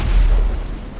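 An explosion during a GTA Online heist, a heavy low boom loud at the start, then a rumbling decay that fades over about a second, with no talk.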